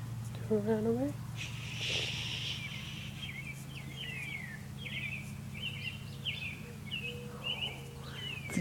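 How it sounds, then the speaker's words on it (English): A baby bird chirps in short, faint tweets across the clip, set against a steady low hum, with a brief louder call near the start. "Did you hear that chirp?"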